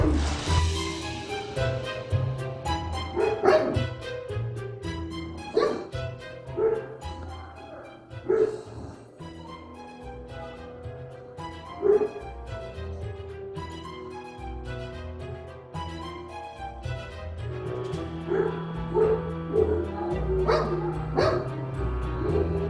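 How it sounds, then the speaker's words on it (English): Dogs barking and howling continuously at close range, a busy layer of yips, woofs and drawn-out howls with no talking. "She barks and howls at people"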